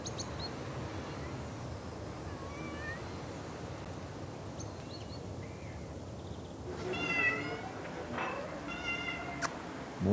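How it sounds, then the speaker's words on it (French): A cat at a cinema box office meows several times, brief rising cries late in the stretch over a quiet indoor background hum, fairly faint and close. "Bonjour au chat."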